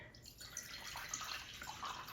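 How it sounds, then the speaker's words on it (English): Water drips and trickles from a sponge being squeezed out during teapot descaling with vinegar, a soft wet patter and splashing that runs through the short moment at close range. "Squeeze out my sponge."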